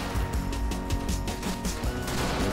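Maxim machine gun firing during a large battle for a Russian town in Men of War: Assault Squad 2, heard as a fairly faint, continuous rattle of rapid shots inside a thick wash of distant combat noise.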